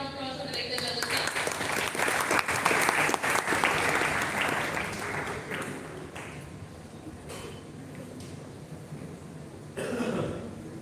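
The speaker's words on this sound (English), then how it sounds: "Everyone a big round of applause for Director General Sir." Audience applause at a college global immersion program event in Delhi as a director general is welcomed to the stage, a broad clapping wash that fades out, with a cough or two and a short burst near the end.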